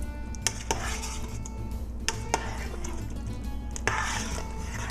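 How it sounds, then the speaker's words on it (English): A spoon stirs a pot of spaghetti sauce with chicken meatballs, giving a few sharp metallic clinks and scrapes against the pot over a steady background hum. "Let me give it a stir."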